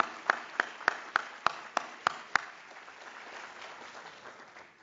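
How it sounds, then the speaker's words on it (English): At an elections conference keynote, about eight sharp, evenly spaced claps ring out in a quiet hall, then stop and leave only faint room noise. "can we just give a big round of applause for them?"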